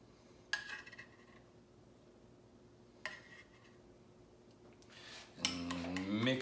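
A knife scrapes and clinks against a bowl while chopped chipotle is stirred into mayonnaise, giving a few faint, sparse taps over a quiet kitchen background.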